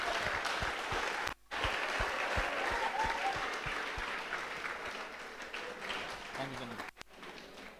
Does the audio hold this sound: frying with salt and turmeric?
no